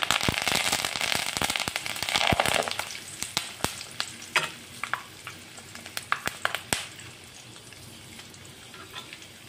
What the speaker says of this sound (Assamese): এতিয়া ভাজি লৈ আছোঁ নৰসিংহ পাত।